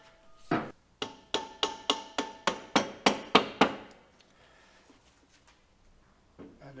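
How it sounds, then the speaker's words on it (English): A rubber hammer taps a wheel axle through the rear hub of a 2017 Suzuki V-Strom motorcycle, about eleven sharp, evenly spaced knocks close up, followed by a pause and one fainter knock. "Rubber hammer, soft hammer, a non-metallic hammer. Just tap it through."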